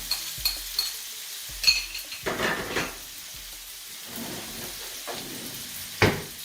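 Onion and garlic sizzle in oil in a non-stick pan while a wooden spoon stirs and scrapes, with a few sharp knocks against the pan and a steady frying hiss underneath.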